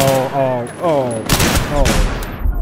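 Gunfire in Battlefield 3 on Xbox 360 bursts loudly in a few rapid volleys, mixed with game sounds and a voice talking underneath.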